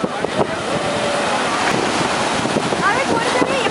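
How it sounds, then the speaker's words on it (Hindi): Ocean waves surge and crash continuously on the beach at Vivekananda Kendra, Kanyakumari, with a broad roaring wash, wind noise on the microphone adding to the steady rush. "कितनी बड़ी लहर है"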